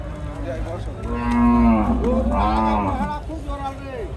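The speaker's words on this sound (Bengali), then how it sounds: "গির জাতের গরু" A Gir breed cow moos loudly and close by, a long drawn-out call that rises and falls, followed by shorter lowing moos over faint background noise.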